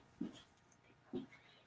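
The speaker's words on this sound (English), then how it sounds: "He's a Doberman. He's a big dog." A miniature Doberman dog makes two short, soft huffs or whimpers about a second apart, faint and close in an otherwise quiet room.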